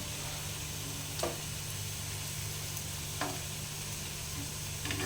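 Jackfruit fritters fry in hot oil in a steady, close sizzle, with a few soft clinks of a utensil at intervals and no talking.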